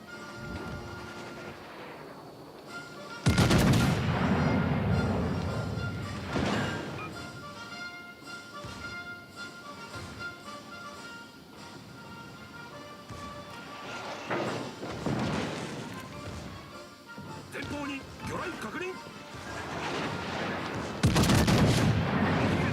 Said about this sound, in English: All stations, concentrate fire on that target.